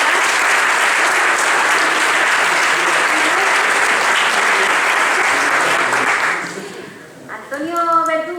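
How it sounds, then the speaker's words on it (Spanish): Audience applause at a regional church conference, sustained dense clapping for several seconds that fades out near the end as a voice begins speaking. "Aplauso para David."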